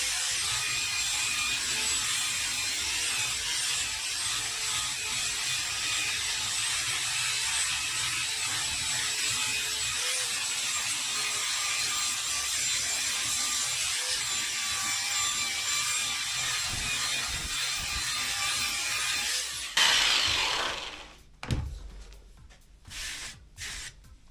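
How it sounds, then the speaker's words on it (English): Wickes belt sander fitted with 60 grit paper sanding spray-painted wood, a steady, close abrasive whirr with scratchy grinding running for about twenty seconds before it stops, leaving a few clunks. "So I'm just going to hit it with the 60 grit that I've put on there, the rough stuff."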